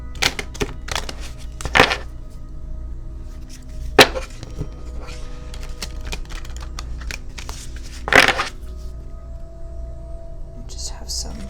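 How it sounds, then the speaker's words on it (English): An oracle card deck is shuffled in a few brisk bursts of riffling and flicking cards, close and fairly quiet, spaced apart with small handling taps between them. "Let's give those a shuffle."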